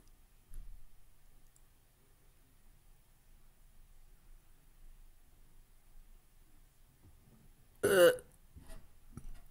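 A person burps once, short and fairly loud, near the end of an otherwise quiet stretch with only faint clicks and ticks.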